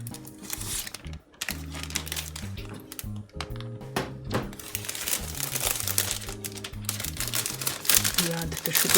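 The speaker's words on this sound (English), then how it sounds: "you just take a cellophane bag" Cellophane gift bag crinkling close up, a busy run of sharp crackles and rustles that continues steadily, heard along with tonal background sound.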